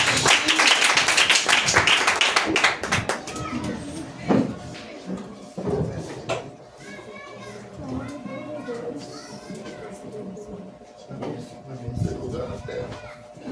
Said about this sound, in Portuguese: Vamos receber o servo de Deus com palmas.